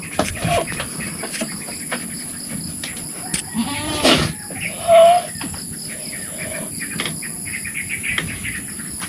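Goats bleat briefly amid a farmyard backdrop of chirping birds and buzzing insects, with scattered clicks and rustles nearby.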